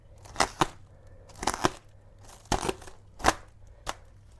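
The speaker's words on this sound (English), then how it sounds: "So I'm using this knife, and now we can cut this from the sides." A knife cuts through plastic luggage wrap at the sides of a wrapped bag, giving five separate crisp, crackling slices at a steady pace, close and moderately loud.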